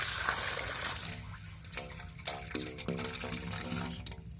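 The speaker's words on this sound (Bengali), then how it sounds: "দেখছেন কিভাবে পানি বেরোয়?" Water gushing and splashing out of a water-holding creature's body, irregular gurgles and spatters close by over an outdoor background, with no talk.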